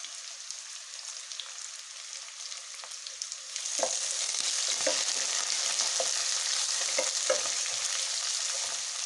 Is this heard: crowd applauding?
no